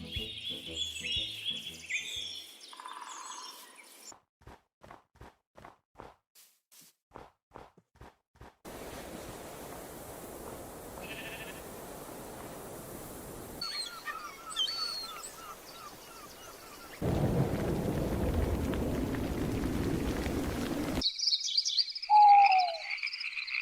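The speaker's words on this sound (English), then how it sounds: "Part of the Quality of Life update is the Ambience update, adding sound effects for each biome" Minecraft biome ambience from the video game: layered bird chirps and calls, rhythmic frog croaks, and a stretch of hissing, rushing background noise, shifting between scenes with no voices.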